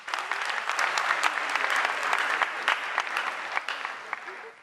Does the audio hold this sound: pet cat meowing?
no